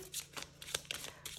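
A small tarot deck being shuffled by hand, several quick crisp riffles and slaps of cards in an uneven rhythm, close and fairly loud, with no voices.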